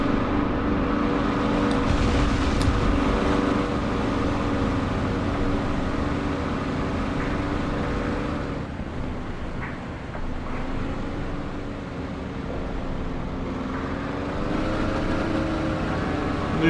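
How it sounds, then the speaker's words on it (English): A steady, droning WWII aircraft engine in the DCS flight simulator runs continuously at high revs, its harmonic tones wavering and shifting pitch slightly as it over-revs, loud and close throughout with no speech. "A little bit of over rev there."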